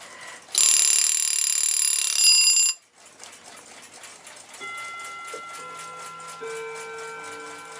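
A 1942 Westclox Baby Ben alarm clock rings loudly up close with a dense metallic bell clatter for about two seconds, then stops abruptly, followed by quieter ticking and faint tonal hums.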